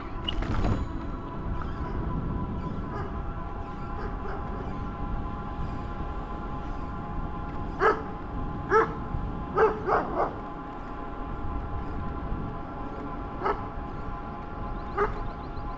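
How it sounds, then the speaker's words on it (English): Several dogs bark in a quick cluster of sharp yips near the middle, heard at a distance along a roadside in Middleburg, Florida. Steady wind and traffic rumble sit underneath the barks. "All the dogs are woke up."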